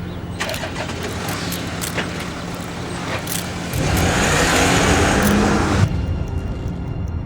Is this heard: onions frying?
no